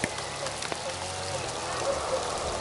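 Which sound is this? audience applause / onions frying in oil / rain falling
rain falling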